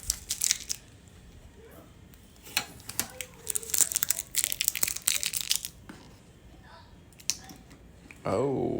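Tape being peeled and torn off protective packaging materials, with sharp crackling rips in bursts and crinkling handling noises in between, close up.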